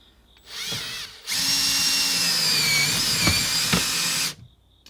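A power drill whines up, pauses, then bites steadily into a car anti-theft device such as a steering wheel lock, a close, loud continuous grinding whir of about three seconds before stopping abruptly.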